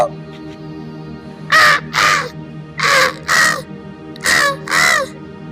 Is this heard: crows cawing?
yes